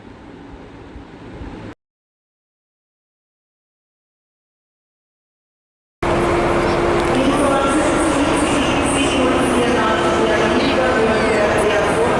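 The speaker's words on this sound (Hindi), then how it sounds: "हम म्यूनिख ट्रेन स्टेशन पहुंच चुके हैं और अब यहाँ से हमारी ट्रेन है बर्लिन के लिए।" Busy Munich train station platform with a steady loud wash of rail and crowd noise and a low humming tone, after a brief quieter opening and a few seconds of total silence.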